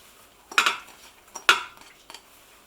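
Carrots tipped into an Instant Pot, two or three sharp clattering knocks of pieces and a utensil against the metal pot, close, separated by short quiet gaps.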